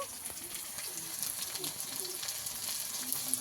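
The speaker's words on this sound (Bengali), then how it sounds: "পেঁয়াজ আর রসুন একসঙ্গে ভালো করে ভেজে নেব" Onion and garlic paste fry in oil with a soft, steady sizzle and a few faint scrapes of stirring, quiet and close.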